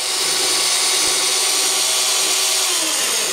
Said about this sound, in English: taking a small drill, and as you can see here, doing pilot holes so you can actually start drilling the rivet heads off